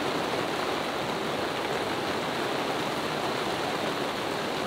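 Steady, loud roar of wind and heavy rain from a thunderstorm hitting a sailboat at night, continuous hiss with no breaks and no talk.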